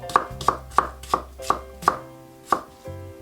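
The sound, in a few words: rough slicing green tomato with a knife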